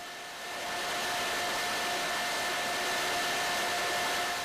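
A jute spinning machine runs steadily with a dense, even mechanical whir and two faint sustained tones, constant and close throughout after a brief quieter start, with no voices.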